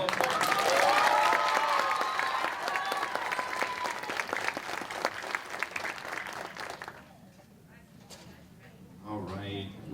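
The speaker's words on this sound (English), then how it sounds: "One final applause." Audience applause and cheering at a school concert, loud clapping mixed with whoops that holds for about seven seconds, then fades to quiet murmur before a voice speaks near the end.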